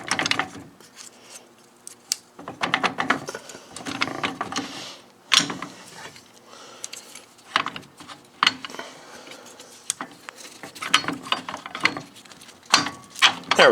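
Metallic clicks, clunks and scraping as a gear is worked through the Synchro-range shifter of a John Deere 4020 tractor during a rebuild, irregular close handling noises in bursts.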